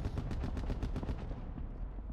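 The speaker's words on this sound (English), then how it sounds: "Gunshots." Rapid automatic gunfire in a military shooter video game, a steady stream of loud, evenly spaced shots that continues for about two seconds with no talk over it.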